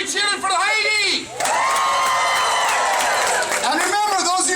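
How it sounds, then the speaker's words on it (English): A live show crowd of lords and ladies bursts into loud cheering and whooping, a sustained roar of shouting voices after a brief dip, close and energetic, opening and closing under an announcer's call. "Lords and ladies on this side, you'll be cheering for Heidi"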